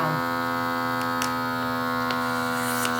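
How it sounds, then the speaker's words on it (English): An Always Fresh Seal Vac vacuum sealer runs in a steady, even electric hum with a few faint clicks and taps over it, heard alone and close. "you hear it change sound"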